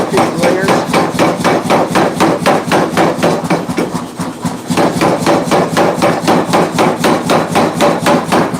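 A power hammer pounds layered steel for a roughly 250-layer forge weld in a shop. Fast, loud, even blows ring out steadily and close, with a short pause midway and no voices.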